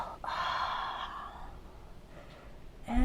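Slow, audible exhales during a yoga breathing exercise, a soft breathy rush held for about a second and then tapering off. A sharper intake of breath follows at the end, close and quiet, with no talking.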